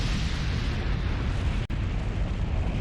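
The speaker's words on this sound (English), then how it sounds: "Nanami detonates her explosives, killing herself instantly" A film-scene explosion as a character detonates explosives, a dense roaring blast sustained throughout with a brief drop-out midway, loud and close.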